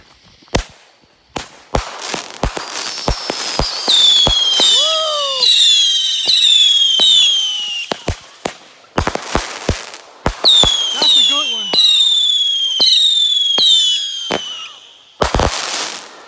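Loud sequence of a Dark Legend 25-shot firework cake, sharp booming bursts with crackling and whistling tails repeating in two volleys, close by and alone.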